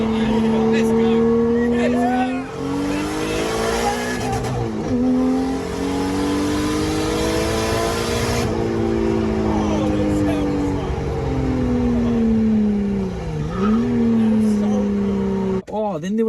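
A car lapping a race track with its engine droning steadily and loud, the pitch rising and falling through gear changes and corners. Voices talk over the engine noise.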